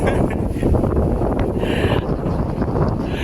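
Strong wind blowing at Bulabog Beach on Boracay, a loud, steady roar buffeting the microphone throughout with a constant low rumble and no breaks.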